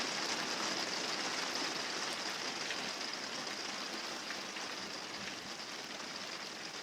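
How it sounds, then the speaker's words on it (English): Steady rain falling outdoors, a continuous broadband hiss of drops at even loudness throughout, with no voices or distinct events. "We have rain here,"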